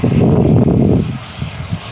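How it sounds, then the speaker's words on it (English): A plane on runway 14 at Gold Coast Airport builds a loud, steady engine roar through the first second, then fades to a quieter, fluttering rumble as it rolls away. "When the planes roll down the runway, this is runway 14 he'll be taking off on."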